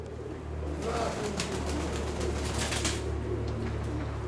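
Pigeons coo in a low, steady murmur under a constant background hum, with faint flutters and higher bird sounds scattered over the top.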